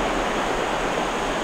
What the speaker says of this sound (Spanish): acá está el río